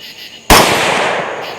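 A single sharp, loud gunshot from a CMMG rifle chambered in .22 Nosler, fired outdoors during a wild hog hunt, with an abrupt crack followed by a long, broad rolling echo.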